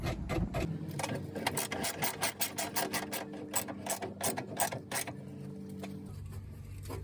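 A ratchet wrench works on a bolt on a Nissan 370Z rear bumper, a run of quick clicking ratchet strokes close up that ends abruptly, with a low hum underneath.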